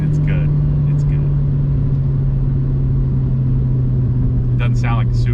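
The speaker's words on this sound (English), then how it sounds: "But you can hear the exhaust it's good." A Honda Civic with an aftermarket header sends out a steady, loud, low exhaust drone from inside the car, with engine harmonics shifting slightly. A few short vocal sounds come through over it.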